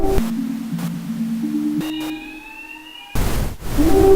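Electronic tones and sweeps give way to a sudden loud burst of bright high-pass white noise near the end, cut by a short gap.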